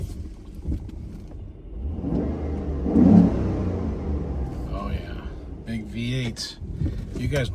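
A 2009 Pontiac G8 GT V8 revs up with a rising mid-range engine roar from inside the car, and someone talks over it.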